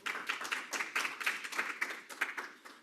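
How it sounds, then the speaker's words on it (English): Applause from the audience at the Womandla STEAM Awards 2021 ceremony, a thin scatter of separate claps in irregular bursts that stay moderately close and fairly quiet for about three seconds, with no one speaking. "Let's give Neil another round of applause."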